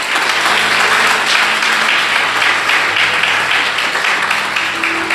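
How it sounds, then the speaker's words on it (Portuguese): A church congregation claps for the Lord during a service, loud continuous applause from many hands that holds steady throughout, with faint tones ringing beneath it. "Você pode aplaudir ao Senhor, querido?"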